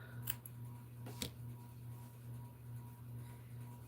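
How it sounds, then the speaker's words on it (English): Scissors snip off a crochet yarn tail at a cluttered desk: a couple of short, crisp cuts near the start and another around the one-second mark, close and fairly quiet over a steady low hum. "I'm going to snip this off"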